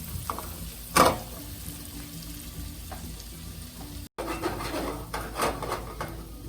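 Onions frying in a pan on a stovetop burner, a steady soft sizzle and crackle with a couple of louder stirring clatters, one near the start and more toward the end, with no talking.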